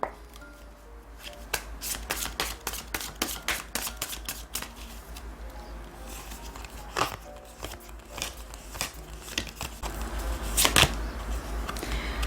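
Tarot cards are shuffled by hand in a long run of quick crisp riffles and slaps, close and fairly quiet, with brief pauses between bursts and no speech.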